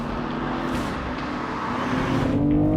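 A BMW M240i with a 374 hp engine pulls hard under acceleration, its steady, loud drone rising slightly in pitch over a few seconds with road and tyre noise, heard close from inside the car.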